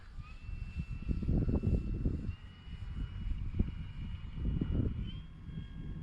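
An RC model of the Draco airplane flies on its maiden day in about 10-mile-an-hour wind, its engine giving a steady droning hum with faint whining tones over wind rumble, at moderate distance.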